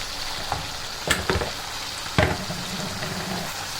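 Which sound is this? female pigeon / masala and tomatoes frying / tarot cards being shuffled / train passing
masala and tomatoes frying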